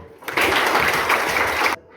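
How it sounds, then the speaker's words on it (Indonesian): A short burst of group applause, dense clapping for about a second and a half, then it stops abruptly. "Tepuk tangan."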